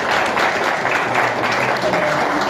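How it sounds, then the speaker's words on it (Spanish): Audience at a scientific writing workshop claps in a steady, continuous burst of applause, moderately loud and even throughout, with a murmur of voices underneath. "un aplauso por favor."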